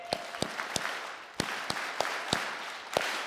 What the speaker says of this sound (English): So I'm going to say rally clap on 3